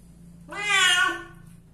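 A domestic rescue cat gives a single loud, drawn-out meow while being bathed, rising and then fading over about a second, close to the listener with no talk.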